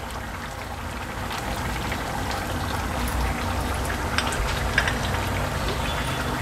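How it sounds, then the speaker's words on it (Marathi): A pot of Agri-Koli style sea crab curry bubbles on a gas stove over high flame, a steady close simmering hiss with small pops and gurgles and no talking. "कालवणाला पण छान उकळी आली आहे"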